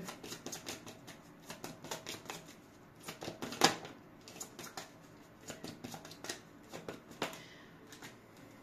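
Playing cards shuffled and drawn for an astrology tarot-style reading, a run of quick crisp riffling and snapping flicks with soft slides between, close and fairly quiet, no talking.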